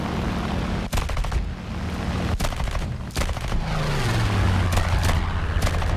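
Bursts of machine-gun fire from a Lavochkin La-7 fighter in War Thunder air battle, several sharp, loud volleys spaced over a steady droning piston engine whose pitch shifts as the plane maneuvers.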